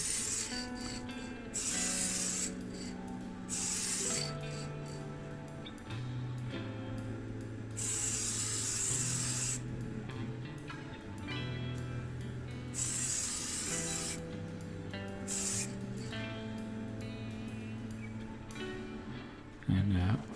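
Aerosol can spraying black primer onto a Hot Wheels Hummer model in several bursts, hissing steadily under a talking voice with background music.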